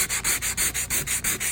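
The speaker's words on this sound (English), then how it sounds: "Just gonna sand it down a little bit" Painted wood is sanded by hand in quick back-and-forth strokes, about eight even rasping passes in a steady rhythm, close and clear with no talking.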